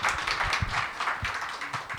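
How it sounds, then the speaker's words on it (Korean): At a labor union gathering, listeners applaud a union speaker with uneven, moderately loud clapping mixed with dull thumps, bunched close together in short bursts. "큰 박수 부탁드릴게요"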